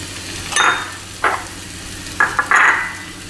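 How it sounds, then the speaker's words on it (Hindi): Lentil paste (pithi) roasts in a pan over a gas flame, with soft sizzling and several short scraping stirs of a spatula against the pan, close and without talk. "ये पिट्ठी भून जाएगी और गैस सिम करेंगे"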